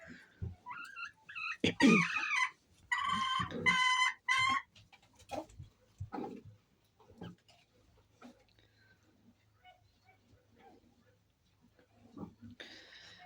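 Chickens cluck and squawk loudly at close range in a coop, with a few bursts of calls early on and then quieter scattered clucks, while people occasionally talk nearby.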